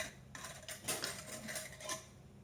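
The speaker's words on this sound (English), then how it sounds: "the metal can lifter, I just have a little spatula. I'm going to grab my lid" A small spatula picks up a metal canning lid while canning collard greens, giving a few light, close metallic clinks and taps in quick succession.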